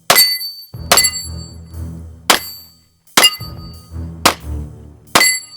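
Sharp metallic clangs and clicks of a pistol being put back together and function checked, about six distinct snaps with short ringing tails and lower rattles between, close and loud with no talk.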